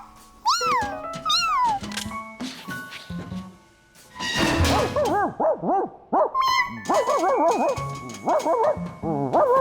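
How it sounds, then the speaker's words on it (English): A dog barks and yelps in quick, close bursts, mixed with high, drawn-out whining and meow-like cries, with only brief pauses between. "The bark stopped."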